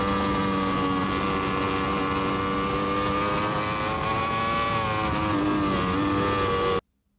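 A racing motorcycle accelerates hard downhill on a track, its engine a loud, sustained high-pitched wail that holds steady close by and then cuts off abruptly near the end.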